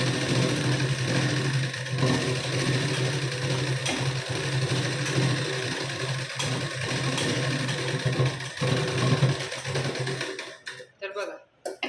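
A sewing machine stitches a katori blouse seam, running a second line half an inch beside the fitting seam. A continuous, close, even mechanical hum runs for about ten seconds, then cuts off into quiet with a few small handling noises.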